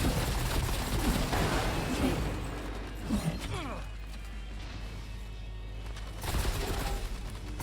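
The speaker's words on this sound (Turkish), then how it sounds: "Şöyle bir daha sallayayım roketi. Aa patladı direkt." A burst of loud crashing blasts with dense noisy rumble, a quieter stretch, then another explosive impact near the end: rocket explosions in the video game Space Punks.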